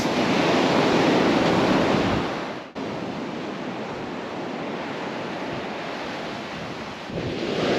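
Sea waves roll and wash continuously onto a sandy beach, a loud broad roar mixed with wind buffeting the microphone, with no voices.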